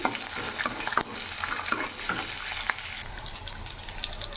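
Curry leaves and whole spices roasting in a pan over a low flame, a continuous soft crackle and sizzle with repeated stirring scrapes and light utensil clicks throughout, no speech.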